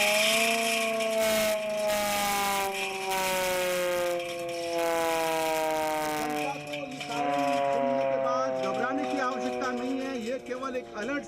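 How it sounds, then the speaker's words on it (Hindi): A loud civil defense siren wails during a mock drill in Jodhpur, India, rising and falling in long sweeping tones, steady and continuous throughout, with some harsh mechanical noise layered in. "मैं फिर आपको ये सायरन बजा के बताऊंगा कि किस तरीके से कल सायरन"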